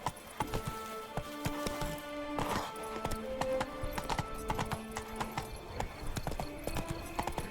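Roach the horse gallops in The Witcher 3 video game, steady rhythmic hoofbeats, close and clear, over a soft musical drone, with a faint whinny at one point.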